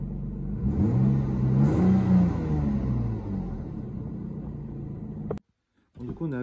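A Lexus car engine rumbles and revs up with rising and falling pitch sweeps, fairly loud and close, before cutting off abruptly into silence, then a brief noise resumes.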